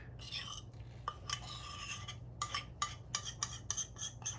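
A spatula scrapes sweet Chinese BBQ sauce from a bowl onto raw pork, giving repeated close scraping and clinking strokes on the bowl that quicken toward the end, with no talking.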